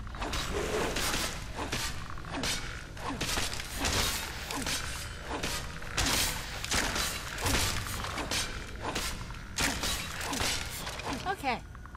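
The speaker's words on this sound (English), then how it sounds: "you gotta press A to activate the pedestal and then it rises up" In Skyrim, a stone pedestal grinds upward with a continuous creaking, clunking mechanism, steady rhythmic scraping and thuds running throughout, with voices talking over it.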